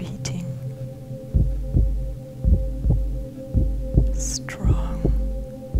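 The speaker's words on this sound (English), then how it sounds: "Listen and feel your heart beating" A slow, steady heartbeat thumps in regular paired pulses over a continuous low hum in a meditation setting, with a faint breathy whisper partway through.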